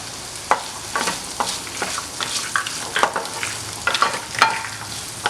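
Small onions, dried red chilies and garlic sauté in a pan for a spicy chutney, with a soft steady sizzle broken by repeated clicks and scrapes of a stirring spoon, close up.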